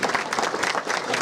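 Applause from a banquet audience fills a short stretch, dense and steady clapping from a room full of people at a church redevelopment dinner.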